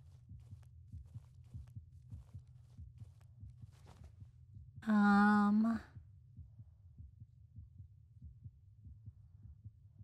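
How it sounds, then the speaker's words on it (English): A heartbeat from the horror game Baby Blues Nightmares thumps low and steady throughout, with a brief tonal cry rising over it for about a second midway. "Can you hear that heartbeat in the game?"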